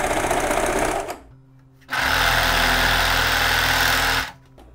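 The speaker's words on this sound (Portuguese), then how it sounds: "vou fazer a costura central das costas" A sewing machine runs the center back seam of a blazer in two loud, fast bursts of steady whirring stitching, separated by a short pause. It stops abruptly at the end, with no talk.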